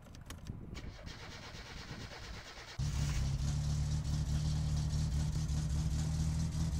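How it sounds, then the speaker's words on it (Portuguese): In the video game My Summer Car, the Satsuma's engine cranks and catches after a short stretch of quieter clicks and knocks, then settles into a loud, steady idle with a constant low hum. "Vou ligando o carro aqui por enquanto."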